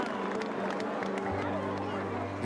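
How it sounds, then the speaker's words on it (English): Crowd roaring and cheering in reaction to the Titanic's steam whistles, a dense sustained wash of voices and claps, with a low droning tone entering partway through. "The reaction was a roar from the crowd."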